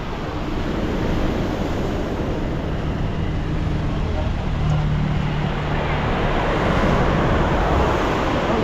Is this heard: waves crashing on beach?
yes